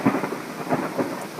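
Thunder rumbles through a storm with steady rain falling, the rolling booms swelling and fading in repeated waves over the constant patter, with no voices.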